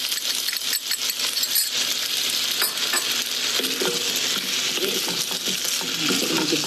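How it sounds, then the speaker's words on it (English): Pre-mixed stir-fry sauce hits a hot pan of pepper steak and sizzles loudly and steadily, with faint clinks and stirring noises, and no talking. "To this, now I'm gonna add our pre-mixed stir-fry sauce"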